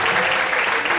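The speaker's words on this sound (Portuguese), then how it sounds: "Você pode aplaudir ao Senhor nessa noite." Church congregation applauding during an evening service, a steady dense wash of many hands clapping at once for a brief moment, fairly loud with no break.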